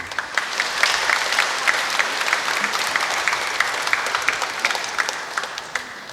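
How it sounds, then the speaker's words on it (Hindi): Congregation applauding inside a cathedral after Mass, a steady wash of many hands clapping for several seconds, full and reverberant. "हम उन्हें धन्यवाद देते हुए ताली बजाएंगे।"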